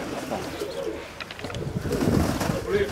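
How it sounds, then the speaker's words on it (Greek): Pigeons coo in a low, murmuring chorus at a Greek fancy pigeon club gathering, fairly near, with a faint voice and some background bustle mixed in. "Αυτά είναι τα πουλιά"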